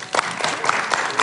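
Audience clapping in a room, a short burst of rhythmic, close-sounding hand claps at a steady beat, roughly four claps per second, with no speech over it.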